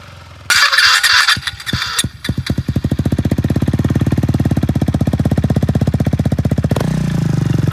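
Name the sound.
KTM Duke 390 motorcycle engine and exhaust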